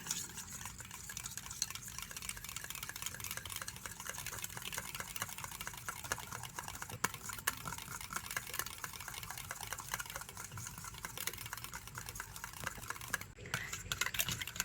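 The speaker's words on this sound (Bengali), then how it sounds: "আর এবার একটা ব্লেন্ডার দিয়ে টক দইটাকে একটু ভালো করে ফেটিয়ে নেব।" Sour yogurt in a bowl is whisked with a blender, giving a faint, steady stream of rapid scraping and churning clicks that continues without a pause.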